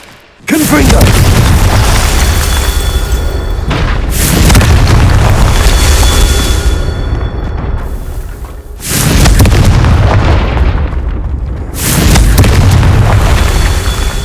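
Repeated heavy booming blasts from the Confringo spell in the Hogwarts Legacy video game, loud and close, several explosions rolling one after another with a dense rumbling tail.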